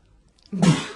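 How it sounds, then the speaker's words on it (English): A single short, sharp sneeze bursts out close by after a brief quiet moment. "Sorry, I had a sneeze. I couldn't hold it in."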